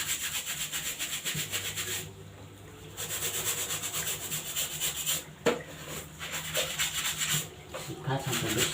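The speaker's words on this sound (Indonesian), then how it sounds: "karena ini nggak usah dilepas, jadi kita harus sikat juga" A soft brush scrubs a helmet strap that stays attached, giving a steady, close rubbing and swishing that runs almost unbroken through the whole stretch, with one brief knock near the end.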